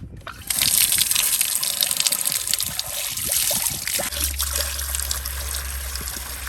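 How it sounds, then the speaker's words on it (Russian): Water gushes steadily from a drinking fountain in a Cyprus park, a close, continuous splashing stream that starts suddenly, with a low hum joining partway through. "На территории есть питьевая вода."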